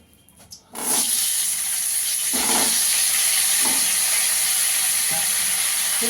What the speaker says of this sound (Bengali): এই তেলে ফুলকপিটাকে ভেজে নেব।